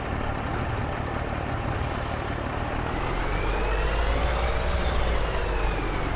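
Truck with air brakes in Farming Simulator 22: a steady, loud engine drone throughout with a brief high hiss of air brake release early on and a rising whine as the truck accelerates.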